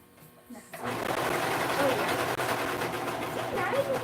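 A sewing machine runs steadily while stitching a fabric bag, a continuous mechanical whir that starts after a brief quiet moment and holds close and loud, with people talking faintly underneath.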